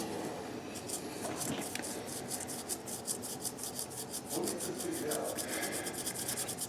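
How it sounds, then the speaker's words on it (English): A folded strip of abrasive rubs back and forth between a banjo's fifth-string spike and the wooden fretboard, giving a close, steady rasping scrape in quick repeated strokes. "I'll just fold it like so and go between the spike and the fretboard with it, back and forth"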